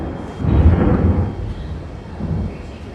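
Thunder from an approaching big storm rumbles low and heavy, swelling to a deep roll and then fading into a softer distant grumble, with no voices over it.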